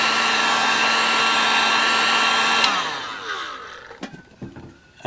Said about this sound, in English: move your heat gun around